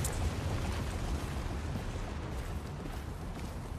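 A grenade explosion in the shooter game The Division sounds as a dense, rumbling roar with heavy low-end boom that fills the moment and slowly fades, with no talking.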